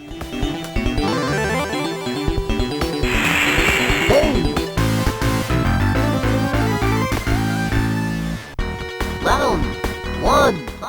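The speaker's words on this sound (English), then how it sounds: "the twangy bass of the Model 1 Genesis spits out a sound like no other" Busy Super Street Fighter II audio from a Model 1 Sega Genesis: twangy synthesized bass and bright FM tones with crashing, clanging effects, loud and continuous.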